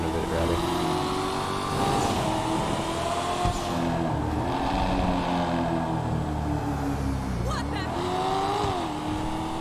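Car exhaust burbling as the driver lets off the gas, the engine tone shifting and dropping in pitch, loud and close, with a brief rev swell near the end.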